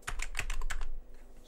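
A command typed on a computer keyboard into a shell: a quick, close run of about half a dozen crisp key clicks that stops abruptly, leaving a low steady hum.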